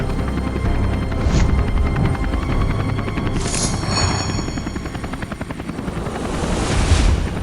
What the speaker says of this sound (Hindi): धीरे धीरे हेलीकॉप्टर को नीचे लेते हैं